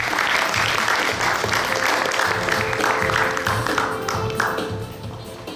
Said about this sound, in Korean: 성남원 회장님은 박수로 맞이해주시기 바랍니다